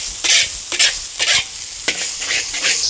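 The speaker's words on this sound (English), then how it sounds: "You can hear the wok sizzling." Curry paste with shallots sizzles loudly in a hot wok, broken by several rhythmic scraping stirs close by with no one talking.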